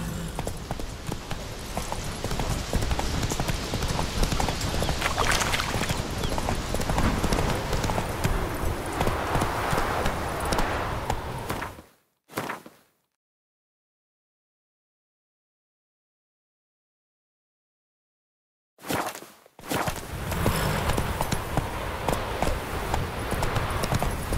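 A horse gallops in The Witcher 3, its hooves beating a rapid, steady clip-clop. It runs loud and close for about twelve seconds, stops in a stretch of silence, then resumes at the same pace.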